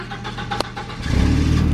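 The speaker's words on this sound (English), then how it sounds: "Oh, the mighty Volvo engine starts up." An old Volvo truck engine cranks briefly, then catches and settles into a low, throbbing idle that grows louder toward the end, close by with no talking.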